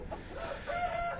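A silver rooster crows once, a drawn-out tonal call rising in the second half, moderately loud against a soft background with no voices.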